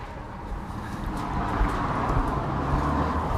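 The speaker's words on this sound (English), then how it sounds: "So please excuse the road noise." Road traffic from a nearby frontage road outside a garage, a continuous broadband rumble and hiss of passing vehicles with wind, steady and fairly loud with no talk.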